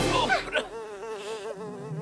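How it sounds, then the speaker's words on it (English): A cartoon flying insect, the fuzzer buzzer, makes a steady, wavering buzz. It starts with a few brief squeaky cartoon effects, then holds a continuous wobbling drone close by, and no one speaks. "The fuzzer buzzer loves to fuzz, buzz, buzz. It buzzes through the sky."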